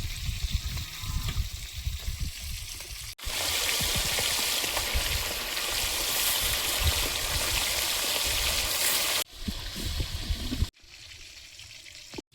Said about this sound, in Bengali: চিকেনগুলো ভাজা হয়েছে, তুলে নেব, নিয়ে বাকিগুলোও ভেজে নেব